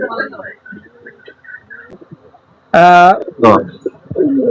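A male Pakistani high-flyer pigeon of the Aliwala type gives a loud, close, throaty coo in two bursts, with someone talking before and after.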